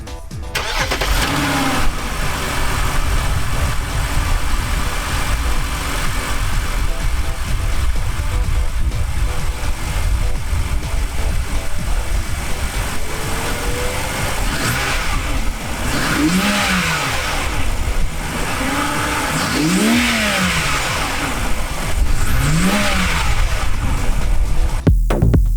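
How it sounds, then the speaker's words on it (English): A BMW E91 wagon with an N52 straight-six and custom intake starts, then settles into a steady idle before several rising and falling revs, loud and close, with no talking. "Let's start it up."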